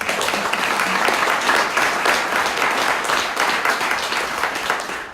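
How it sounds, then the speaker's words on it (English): Sustained audience applause at a bushfire community meeting in Mallacoota, a dense, steady wash of many hands clapping at full volume across the whole stretch. "And just a round of applause for all the cafe owners and all those people that cooked those thousands and thousands."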